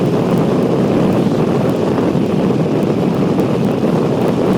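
Strong wind buffets the microphone during a ride on a Peugeot Metropolis scooter, a loud, constant roaring rush with no let-up and no voices.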